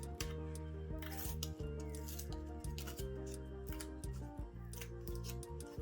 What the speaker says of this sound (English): I'm going to try to pull all of this masking paper from underneath.